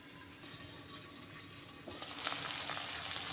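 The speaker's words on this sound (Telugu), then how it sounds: "ఒక 2 నిమిషాలు ఆనియన్ ఫ్రై అవుతున్నాయండి" Onions frying in a pan for a masala capsicum curry, a soft low sizzle that swells into a brighter, louder hiss partway through, brief and without speech.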